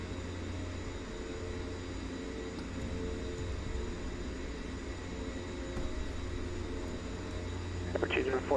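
A de Havilland Twin Otter turboprop running as a steady low engine drone with a constant hum and faint higher whine, continuous and unchanging, with brief soft sounds near the end.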